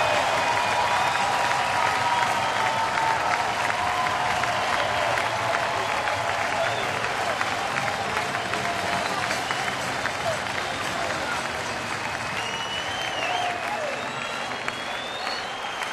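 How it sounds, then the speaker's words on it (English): A packed baseball stadium crowd of nearly forty thousand in Pittsburgh roars and applauds continuously, a dense, sustained wash of cheering and clapping with no letup, as the home team sits one out from regaining first place. "Listen to this crowd."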